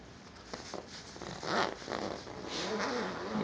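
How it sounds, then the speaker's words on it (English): A zipper on a handmade peapod hammock is pulled open in a few quiet, scratchy strokes, close by, over faint background noise. "And of course that's where the zipper is."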